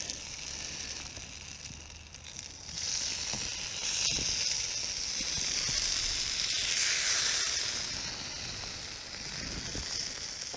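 Fat sizzles steadily in a pan as chilli cooks at a Scottish wild camp, a close, continuous crackling hiss that swells and eases over several seconds; no speech.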